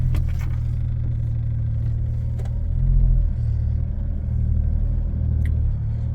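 A Toyota MR2 that has sat on wet grass for a day or two idles with a steady low rumble as it is moved, the engine swelling slightly mid-way, with a few clicks and knocks nearby.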